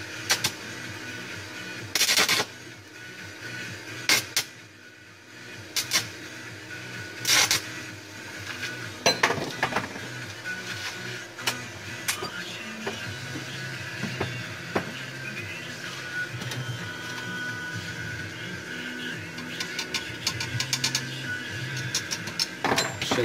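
Short arc bursts and crackles from tack welding a broken Bay-tec vise, a few separate sharp bursts standing out over a steady workshop hum and clatter.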